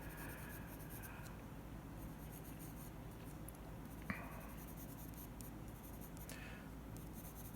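Graphite or colored pencil scratches softly across paper in faint, close strokes, with short light scribbles and a single sharp tap partway through.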